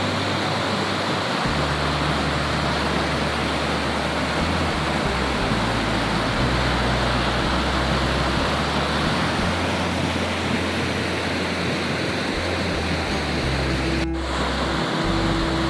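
Steady, loud rush of water at the Gundyadka waterfall in dense forest, a dense continuous roar close by with no talk, a brief click near the end.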